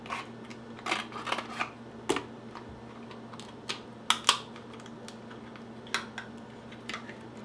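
Sharp, irregular clicks and snips from scissors cutting through a lobster shell, scattered across the clip over a steady low hum, with no talking.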